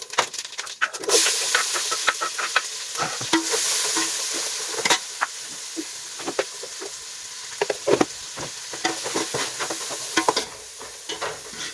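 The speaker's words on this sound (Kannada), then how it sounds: "ಕಜ್ಪು ಒಂಜಿ ಒಗ್ಗರಣೆ ಕೊರೊಂದುಳ್ಳೆ" Spices crackle and sizzle in hot oil as a tempering for curry, a steady frying hiss broken by sharp pops and stirring scrapes, loud and close with no talking.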